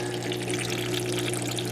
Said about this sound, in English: a power head pumping the water up this tube